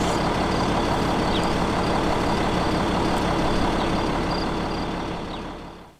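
A safari vehicle's engine runs steadily while the car sits parked in the bush, a constant low rumbling drone that holds at an even level throughout and then fades away at the very end.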